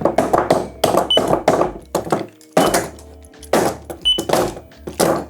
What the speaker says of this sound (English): let's give this a few whacks just to see